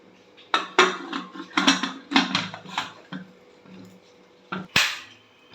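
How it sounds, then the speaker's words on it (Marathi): A pressure cooker being set on a gas stove makes a run of sharp metallic clanks and clatters, close and loud, in uneven bursts with short pauses between. "आणखीन कुकर मी शेगडीवर ठेवलेलं आहे."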